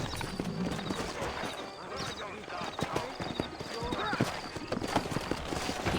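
Horse hooves clip-clop at a steady walking rhythm in the video game Red Dead Redemption, with dense layered game ambience and a neigh, while voices talk over the hoofbeats.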